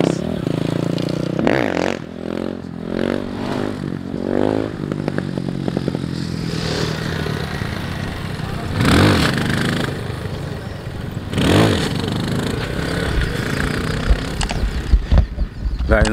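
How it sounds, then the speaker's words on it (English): Motorcycles rev and ride past at a Wheelie Sunday gathering, with engines rising and fading and two sharp revving surges standing out over ongoing crowd and street noise. "All them bikes I seen turning up there."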